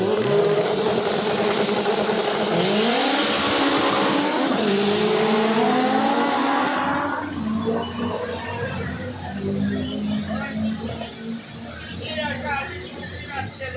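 A drag racing car launches hard down the left lane at a drag strip, its engine roaring loud and rising in pitch over several seconds, then fading into the distance while crowd noise and an announcer's voice carry on.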